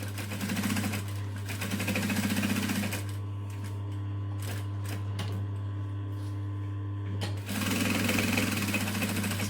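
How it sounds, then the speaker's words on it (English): A sewing machine stitches close along the edge of a Heidi clutch bag, a steady loud mechanical whir with a strong low hum, broken mid-way by a brief pause of lighter handling before the rapid stitching resumes. "So I'm just stitching about 1/8 of an inch to make sure I'm within all my seam allowances"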